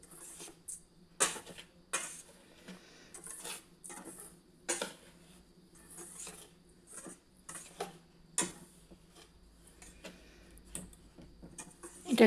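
Semolina and sugar being stirred together in a bowl, giving soft, irregular scraping and light clinks of a utensil against the bowl, quiet and close, with no talk.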